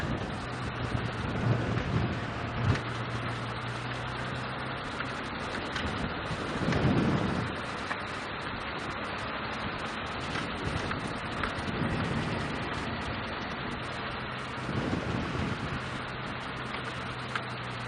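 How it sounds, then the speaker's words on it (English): Wind buffets the microphone on an open vehicle during a sunrise safari drive on Cheetah Plains. A steady rushing roar swells in a few low gusts throughout, with no voices. "So breezy."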